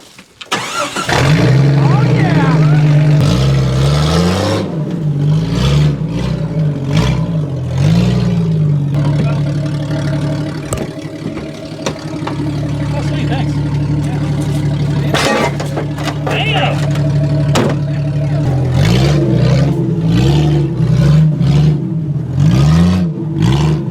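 A loud Jeep engine and exhaust rev and roar continuously, rising and falling in pitch, with voices talking over it throughout.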